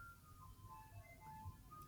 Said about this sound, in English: Why is there a damn ice cream truck in my neighborhood?